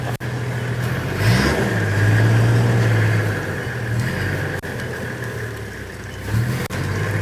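A car engine on the impassable Mbandaka-Bikoro road revs up and strains, holding a loud sustained drone before easing back and surging again, with a few sharp knocks between.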